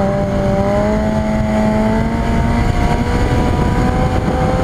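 A motorcycle engine holds a steady throttle through a wheelie, a loud, continuous drone with a sustained, even pitch that runs close and unbroken the whole time, with no voices over it.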